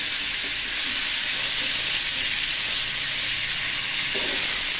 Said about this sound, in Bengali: তো এইখানে কিন্তু আমি সুন্দর মতো মাছগুলো বাইজে নিব